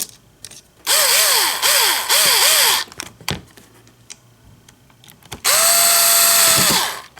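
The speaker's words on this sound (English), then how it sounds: "Screw these back on and you're good to go." A power drill drives screws back into a DeLorean fuse box, with several short whirring bursts early on followed by one long, loud steady run near the end. Small clicks and clatter fill the gaps between.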